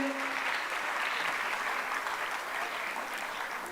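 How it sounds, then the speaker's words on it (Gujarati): A hall audience claps loudly to welcome guests onto the stage at a religious family gathering, a dense, even roar of applause sustained for several seconds without a break. "આપણે સૌ જોરદાર તાળીઓથી એમનું સ્વાગત કરીએ છીએ."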